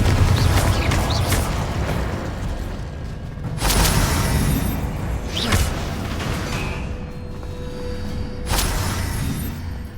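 Confringo fire-blast spell explosions in Hogwarts Legacy, three separate loud booming bursts spaced a couple of seconds apart, each with a sharp whooshing attack over a steady low ambient rumble.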